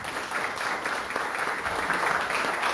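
A church congregation applauds steadily at the close of an evening worship service, a dense, even wash of clapping that holds at one level throughout.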